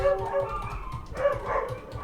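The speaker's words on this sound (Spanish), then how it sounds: "Ahí se escuchan a mis perros, están locos" Several pet dogs bark, yip and whine from another room of a home, a restless run of yelping and howl-like cries of moderate loudness.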